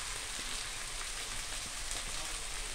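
Cooked rice tipped into a hot oiled pan for fried rice, a dense continuous sizzling hiss at close range, steady and loud with no talking.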